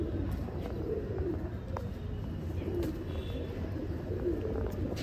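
A female pigeon in a loft gives soft, low coos, spaced at intervals over a constant noisy background, with faint chirps.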